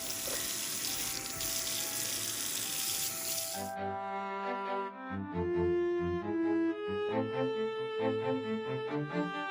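Water runs hard from a tap into a sink while a vintage Vicma Bambo baby doll is washed. A steady rushing stream gives way to hollow, shifting splashes and trickles as the basin fills and the water is moved about, close by.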